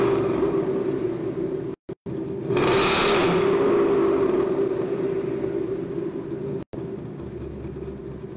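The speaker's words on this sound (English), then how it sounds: "Another rev, please." A 2018 Ford Mustang engine is revved while heard from behind the car: a loud, steady low rumble swells into one rushing rev surge and settles back, with a couple of brief dropouts.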